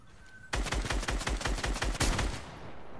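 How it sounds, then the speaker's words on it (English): Rapid shotgun blasts in a video game, about eight loud sharp shots fired in quick succession, then a brief ringing tail. "Oh no, a shotgun shot from there is deadly."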